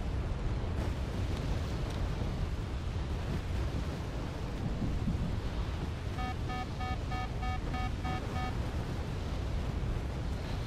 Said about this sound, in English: F-111C dropping a lot of bombs,